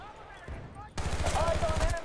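Rapid automatic fire from an XM8 rifle in the video game Battlefield Bad Company 2, quiet at first and then a loud, continuous burst of shots for the last second.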